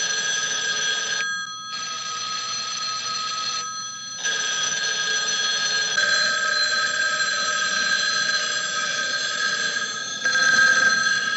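A telephone bell rings loudly and steadily in a film soundtrack, a continuous metallic trill broken by two brief pauses, with no talking over it.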